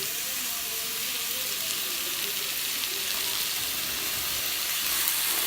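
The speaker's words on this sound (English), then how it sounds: "So I've got my skillet heating up and just add my turkey in." Two pounds of ground turkey sizzling in a hot skillet, a steady loud hiss and crackle of frying that carries evenly throughout without pause.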